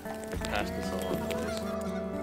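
Geese honk in an outdoor hunting setting on a cool morning, several calls overlapping at moderate distance against a steady background.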